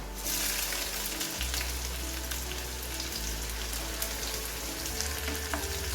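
Finely chopped onion fries in oil with reddened garlic for a Malvani mackerel gravy, giving a dense, steady crackling sizzle like rain on a surface, close and even, with no talking.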